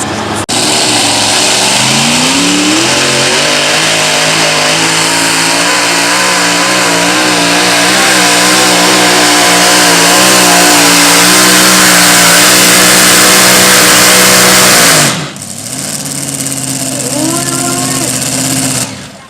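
A heavy race truck engine with one of its two turbos blown, revving loud and steady for a long stretch with a harsh, rattling whine, then cutting out briefly before surging back up.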